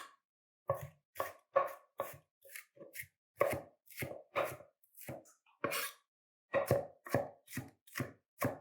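A knife chops and minces shallots on a cutting board in a series of crisp, close taps, some quick doubled strokes and brief pauses, alone and without talk.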